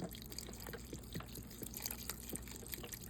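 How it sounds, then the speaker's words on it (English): Beef broth is poured into a pot of homestyle spaghetti sauce, heard as a faint, close trickle with soft drips and splashes and no talk. "now I'm going in with a little beef broth that I have"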